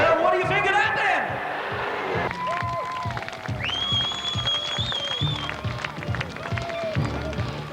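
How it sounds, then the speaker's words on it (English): Large crowd cheering and applauding at a Bradford BriSCA F1 stock car World Championship Final as the defending champion's car reaches the grid, a steady roar of voices and clapping with whistle-like tones and a commentator talking over it. "So you can hear the crowd reaction as the defending champion 53 John Lund rails his way onto the grid and salutes the massive crowd here at Bradford"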